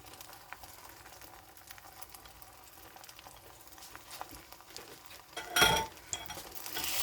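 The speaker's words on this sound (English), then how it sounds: "Get all my egg mix, my creamy mix out of my bowl." A creamy egg mixture is poured into a hot pan and begins to cook, giving a low, steady sizzle with faint clinks. A short louder burst of sizzling rises near the end.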